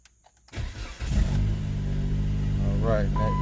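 A 2008 Dodge Caliber SXT with the 2.0 engine cranks briefly after a quiet moment, then catches and settles into a steady close idle, with a short voice near the end.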